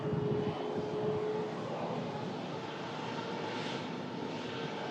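Jet airliner engines roar steadily at an airport during plane spotting, a continuous broadband rumble with faint tonal whine, moderately loud and unbroken, with no talking.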